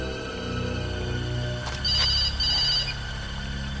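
A telephone rings in a horror film, its loud electronic bell trilling steadily in bursts over a background music bed, with no voices.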